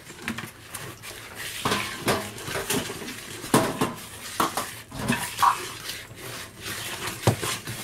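A bakewell tart mixture with almond extract being stirred in a bowl, giving steady scraping, clinking strokes of a utensil against the bowl at close range, with no talking.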